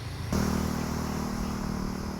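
Motorcycle engine near a fishing spot, a steady close idling rumble that starts abruptly after a short moment and holds evenly to the end.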